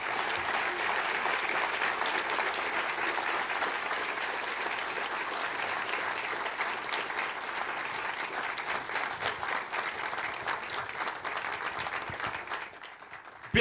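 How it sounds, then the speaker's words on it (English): Audience applause for Governor Arnold Schwarzenegger after a speech on homelessness in California, a dense, steady roar of many clapping hands that holds strong throughout and tapers slightly at the very end. "Bigger round of applause for Governor Arnold Schwarzenegger."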